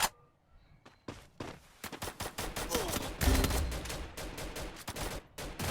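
Rapid automatic gunfire rattles from a gun in a shooter video game, with dense bursts close and loud that run almost continuously after a short opening shot.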